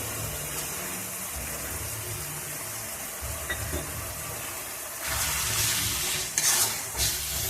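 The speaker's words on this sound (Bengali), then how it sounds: "সমস্ত মশলাগুলো আমি এবার একটু ভালো করে কষে নেব" Spice paste of ground green chilli, coriander and cumin powder fries in a pan for bhola fish kalia, a steady close sizzle with a few louder stirring scrapes near the end.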